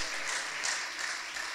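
A church congregation claps and ululates together during an Easter service, a dense, continuous wash of applause and high trilling cries, loud and sustained without a break.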